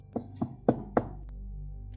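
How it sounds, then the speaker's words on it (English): Four firm knocks on a door, close and evenly spaced, followed by quiet room tone. "A knock."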